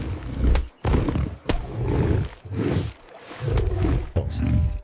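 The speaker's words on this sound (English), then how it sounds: "Both the big cats stand on their hind legs and hit each other with their paws." Loud, close roars and snarls from a lion and a tiger fighting, standing on hind legs and hitting each other with their paws, repeated bursts separated by brief pauses, with a few thuds.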